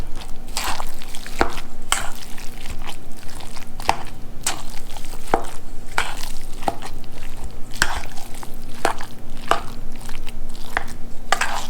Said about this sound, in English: So now we just mix it all up.